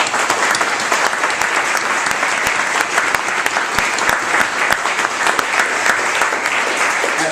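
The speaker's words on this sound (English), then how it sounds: "Let's give all of them a round of applause." Loud, sustained applause from a crowd at a community kitchen academy graduation, thick continuous clapping with sharp individual claps standing out close by, lasting several seconds without a break.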